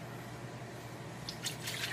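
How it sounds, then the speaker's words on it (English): Candy apple mixture being poured into a kitchen pot: a faint, wet dripping and trickling that turns into brief splashy bursts toward the end, with no talking. "So I got a pot. And I'm gonna pour the stuff in there."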